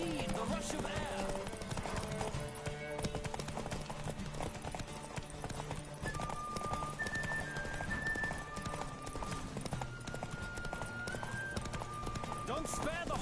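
Steady clip-clop of a galloping horse in The Witcher 3, rhythmic hoofbeats continuing throughout under game music and tonal effects, with a brief whinny.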